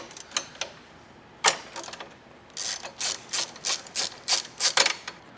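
A hand ratchet works loose a bolt and nut from a bracket on a 4th-generation Tacoma, giving a few scattered clicks and then a quick run of about a dozen sharp, close ratcheting bursts.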